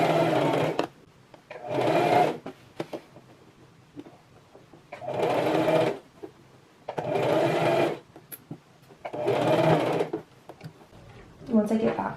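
A sewing machine runs along the serged edge of a dress pocket in five or six steady bursts separated by short pauses, close and clear, with a voice heard faintly in the gaps.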